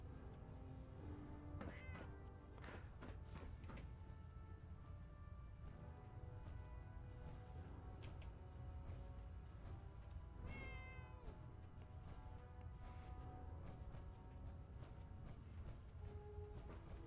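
A cat meows repeatedly in Fallout 4, several rising, drawn-out calls spread across a steady bed of game music and ambient sound, fairly close and clear.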